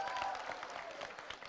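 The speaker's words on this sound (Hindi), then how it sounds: "एक तालियां प्लीज" A live audience claps at an Indian comedy or interview show, a steady patter of hands filling the short moment at moderate volume with faint crowd noise beneath.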